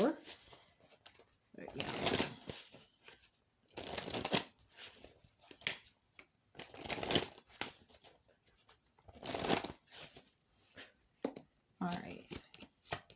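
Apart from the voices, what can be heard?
dropped tarot cards being gathered and shuffled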